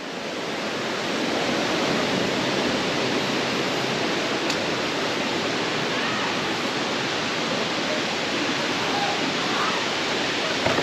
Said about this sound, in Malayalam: വെള്ളച്ചാട്ടം കൊള്ളാട്ടോ